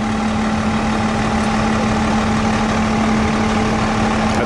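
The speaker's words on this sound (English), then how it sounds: "This here's a Pierce, and it's a frontline engine for the city of Battleground" A Pierce frontline fire engine sits idling nearby, a steady, loud diesel rumble with a constant low hum that holds without change throughout.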